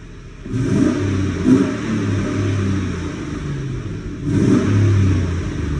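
A 4-cylinder car engine with a low-RPM spark misfire revs hard twice, once early and again near the end, holding a loud, steady rumble in between.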